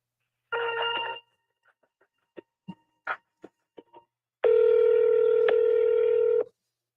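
A telephone line during a call transfer: a short burst of ringback tone, a sequence of quick DTMF dialing beeps, then a longer steady ring tone, all clear and close with no talking.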